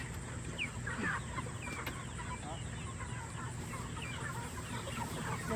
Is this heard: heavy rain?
no